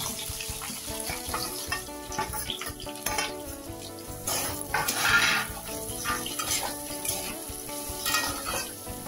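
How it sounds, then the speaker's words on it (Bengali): Capsicum and carrot fry in oil already used for frying paneer, a continuous crackling sizzle with scraping and stirring clatter from the pan that swells briefly midway. "ওই একই তেলের মধ্যেই আমি ক্যাপসিকাম আর গাজরটাও দিয়ে দেব।"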